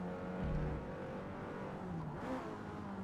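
Damaged car engine in the Forza racing game revving unevenly, its pitch rising and dipping in uneven steps instead of climbing smoothly, a steady fairly loud drone throughout.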